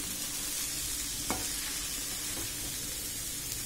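Chicken noodles being stirred with masala in a pan, a steady low sizzle throughout with a couple of brief scraping clicks from the utensil, close and fairly quiet, no talking.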